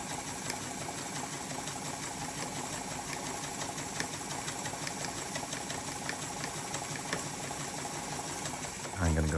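An Adler 87 industrial sewing machine runs steadily at close range, a continuous quiet mechanical whir with a rapid, even stitching rhythm, ending with a brief heavier clunk.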